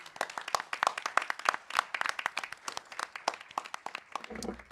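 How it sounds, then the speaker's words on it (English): An audience claps for students, a light scattered round of individual hand claps with a steady rhythm that thins out and fades near the end. "So please, a round of applause for all the students."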